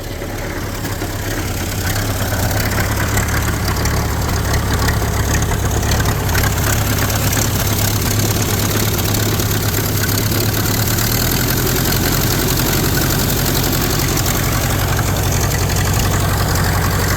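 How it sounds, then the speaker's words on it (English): A long-unused Model A Ford engine with heavy blow-by idles steadily and loudly for the whole stretch, a low rumbling drone with a slightly uneven, rough running beat and no voices. "it's not smoking too badly for an engine that's sat for God knows how long"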